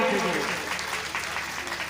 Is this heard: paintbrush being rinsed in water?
no